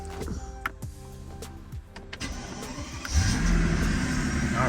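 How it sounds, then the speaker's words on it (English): A Mercedes CL600 starts up: the starter cranks with clicks and whirring, then the engine catches and settles into a steady, rumbling idle, heard close from inside the car. "Now let's start the car up."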